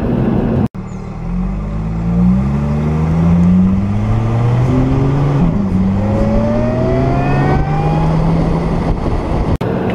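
A 2013 Lotus Evora S engine revving up through the gears, its pitch climbing repeatedly as it accelerates, with steady road and cabin rumble beneath.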